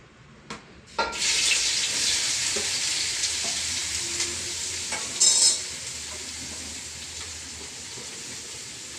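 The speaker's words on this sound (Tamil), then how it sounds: "வெங்காயத்தை ஆட் பண்ணிட்டு ஃப்ரை பண்ணிக்கலாம்." Three chopped onions hit a hot pan and sizzle after a couple of sharp clatters, a steady frying hiss that settles and fades slightly, with a brief louder scrape of stirring midway.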